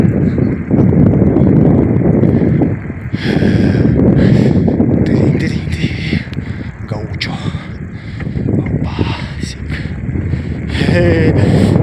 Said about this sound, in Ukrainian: Чувачки на конях прям автентичні такі.